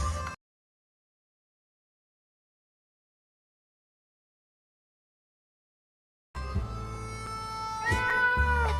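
Cats meow in the game 60 Seconds! Reatomized, where they overrun a shelter: a brief sound at the start, a long stretch of silence, then several overlapping meows and wails rising near the end.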